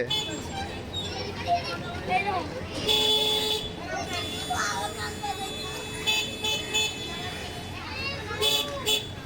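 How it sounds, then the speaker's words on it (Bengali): A vehicle horn toots several times amid busy street noise, with children's voices and traffic around it. "গাড়ি তো হর্ন বাজে।"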